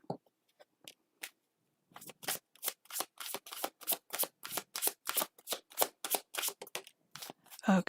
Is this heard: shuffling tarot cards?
yes